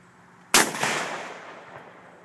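One sharp, loud M1A rifle shot cracks outdoors at a shooting range, followed by a long fading echo rolling away over about a second and a half.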